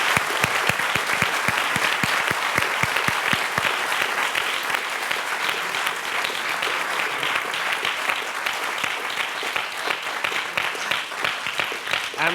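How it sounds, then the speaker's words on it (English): Audience at a science communication panel event applauds the panelists, with dense, loud, sustained clapping filling the room from start to finish. "A warm round of applause to our panelists."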